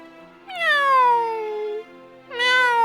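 A voice imitates a cat meowing in a storybook reading: two drawn-out, falling meows, close and clear, the second cut short.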